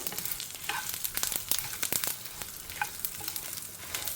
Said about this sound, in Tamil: வத்த மிளகா கருவேப்பிலை கடுகு நல்லா பொரிய ஆரம்பிச்சிருக்கு